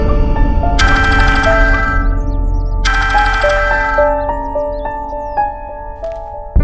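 A telephone rings during a call in a Hindi television drama, a loud electronic ringtone melody with bright chiming bursts that repeats in two phrases and then continues as sustained tones, with no talking over it.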